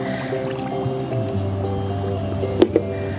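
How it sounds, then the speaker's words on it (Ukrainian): Water is poured over walnuts in a container, a close, continuous trickle and splash with a couple of brief louder drips near the end. "Ось заливаємо водичкою."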